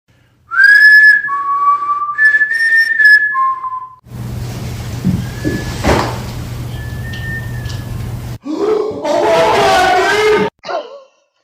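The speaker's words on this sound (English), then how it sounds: "It only liked this one tune that I whistle, and it responds back with the same exact whistle" A person whistles a short melodic phrase, followed by a noisy stretch with faint whistled notes, then a chirpy bird-like whistle answers briefly.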